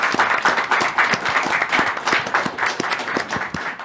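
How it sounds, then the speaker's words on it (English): A small audience at a climate change podcast event gives a brief round of applause, scattered individual claps in a steady patter, fairly close and moderately loud, with no voices over it. "can we give Tara a little bit of round of applause?"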